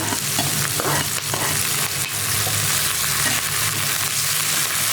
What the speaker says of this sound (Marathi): तेल आपलं गरम झालं आहे इथं हा टेजलेला लसूण मी टाकून घेतला हिरव्या मिरच्या पण लगेच टाकून घेतल्या